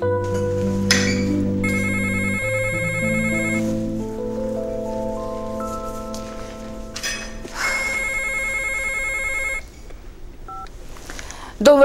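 A telephone being dialed, with electronic tone beeps in sequence, followed by two bursts of ringing, clear and close with little else in the background.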